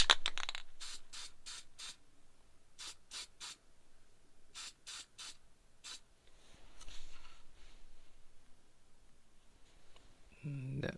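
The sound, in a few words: spray can spraying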